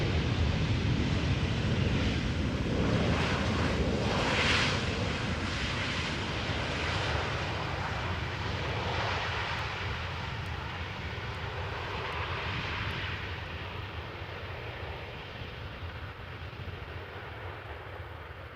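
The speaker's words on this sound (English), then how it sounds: "this is KLM flight 1278, Boeing 737-800 landing, coming in from Edinburgh" A KLM Boeing 737-800 inbound from Edinburgh lands at Amsterdam Schiphol, its broadband engine roar loudest at first and then easing steadily away, a continuous airport rumble with no voices.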